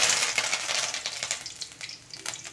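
Curry leaves and green chillies crackling in hot oil in a kadai, a bright, dense sizzle up close that gradually settles, with faint stirring clinks.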